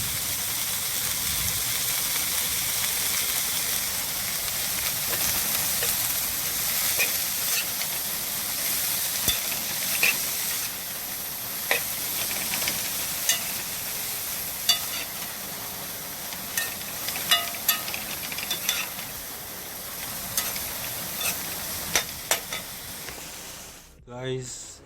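Vegetables cook with a little water in a pot on a stove, giving a steady hissing, bubbling steam sound with occasional sharp clicks and taps of utensils, and faint talk in places.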